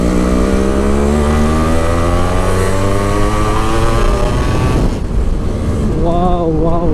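A restored Yamaha RX135 motorcycle rides along a road, its engine a loud, continuous buzzing drone whose pitch climbs steadily before shifting as the rider changes pace; it dominates throughout, with possible voices faintly underneath.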